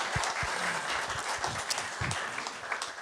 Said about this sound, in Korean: 한 번 더 박수, 큰 박수 부탁드립니다